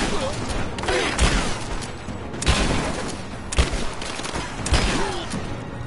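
Bursts of gunfire crackle in a Rise of the Tomb Raider firefight, several loud shots rising above a dense, continuous battle din, with voices shouting in the background.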